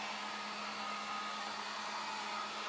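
A hair dryer blows steadily on a freshly applied Dixie Belle paint wash, a continuous, fairly loud whoosh with a constant motor hum that holds evenly throughout, with no talking.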